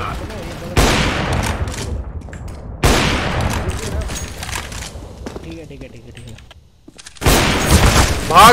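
Loud bursts of rifle fire from the shooter game Counter-Strike: Global Offensive come in three separate volleys with quieter gaps between them, and a player talks throughout.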